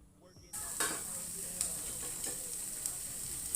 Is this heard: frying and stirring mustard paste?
yes